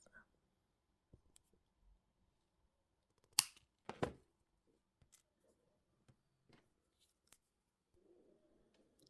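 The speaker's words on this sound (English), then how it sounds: "holding them together, we're just going to cut this off at the same" Two close, sharp snips come a moment apart as jewelry pliers cut through two pieces of wire held together, with faint small taps and handling noises in an otherwise quiet room.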